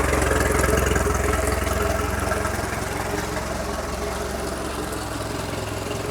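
An outboard engine on an upgraded Aquasport center console boat idling steadily, a loud, close, continuous low rumble with a faint knocking pulse and no talk.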